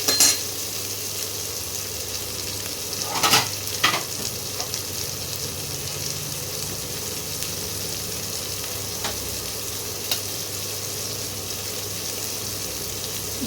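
Chopped tomatoes fry in a pan while a Bengali katla fish kalia is being made, a continuous steady sizzle broken by a couple of sharp spoon scrapes early on and a few lighter clinks later.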